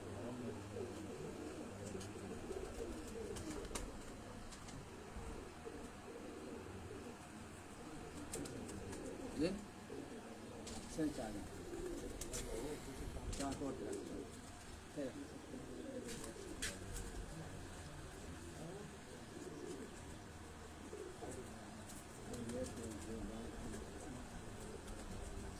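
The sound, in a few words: pigeon cooing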